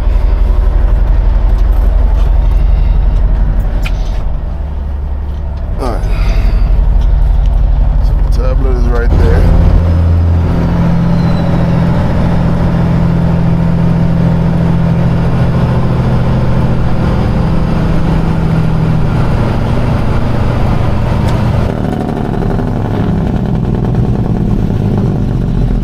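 A semi-truck's heavy engine rumbles low and steady inside the cab, building as the rig pulls away and then droning continuously, close and loud.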